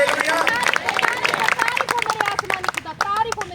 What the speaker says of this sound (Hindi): जोर से तारीफ करें परमेश्वर की, जोर से ताली बजाकर।